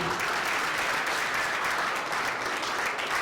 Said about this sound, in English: I want us to clap again for Mrs. Bola Ray